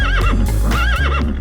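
A horse whinnies loudly and close, two long wavering neighs in succession with hoof clip-clops beneath, no voices over it.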